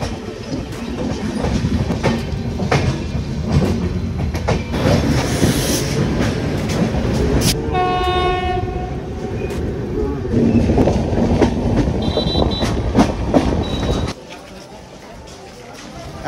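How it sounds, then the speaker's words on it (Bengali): The Rupasi Bangla Express rolls into Kharagpur railway station with loud, continuous rumbling and clattering wheels. A brief horn-like tone sounds midway, and people talk over the noise until it drops off near the end. "আমাদের ট্রেন রূপসী বাংলা এক্সপ্রেস এখন ঢুকছে খড়গপুর রেলওয়ে স্টেশনে"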